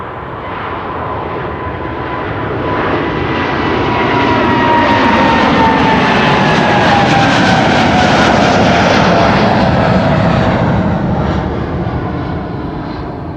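A brand-new KLM Boeing 787-10 Dreamliner jet, flight 877 to Mumbai, passing at Amsterdam Schiphol Airport. Its engines make a loud, steady roar that builds and peaks near the middle, then eases slightly, with a faint whine over it and no voices.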